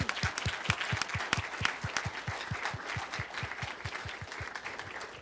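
An audience at a startup idea competition claps steadily for a third-place winner, a dense, even patter of many hands that holds throughout and eases slightly at the end.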